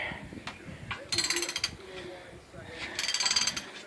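A long ratchet wrench loosens a castellated nut on an axle perch, giving two bursts of rapid metallic clicking close up, with a few scattered clanks between them.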